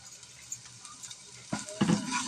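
Chopped onions frying in a pan for banana kofta, with quiet stirring at first, then a louder burst of sizzling and scraping near the end.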